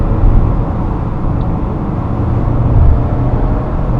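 A Kia K7 hybrid accelerates in sport mode, heard as a steady, loud, low rumble of engine and road noise that swells slightly toward the end.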